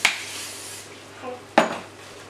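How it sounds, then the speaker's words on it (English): A metal muffin tray being oiled for vegan pear pulp muffins clatters in two sharp metallic knocks, one at the start and another midway, each fading quickly against a quiet kitchen background. "just oil up your muffin tray"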